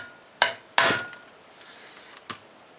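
Ball peen hammer striking the tank of a broken Harbor Freight ultrasonic cleaner: three sharp metallic knocks, two close together then a softer third after a pause, close and fairly loud.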